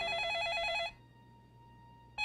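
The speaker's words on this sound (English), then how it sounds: "Get in the door, phone's ringing." A telephone bell rings loud and close in a steady warbling burst, stops for over a second, then starts ringing again.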